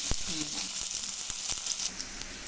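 Onions frying in hot oil until browned, a steady bright sizzle with small crackles and occasional clicks of a utensil, close by, with faint voices in the background.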